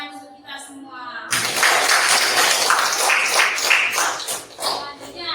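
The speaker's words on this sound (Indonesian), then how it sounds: "Tepuk tangan untuk kita semua." An audience in a classroom or school gathering bursts into clapping after a short stretch of talk, and the dense applause continues at a strong, fairly even level to the end.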